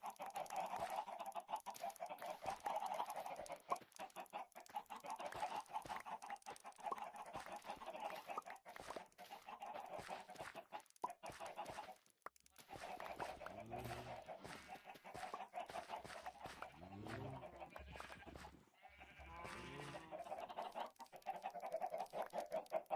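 Minecraft chickens cluck in short bursts over a steady game background, with a few louder clucking runs near the end and no talk.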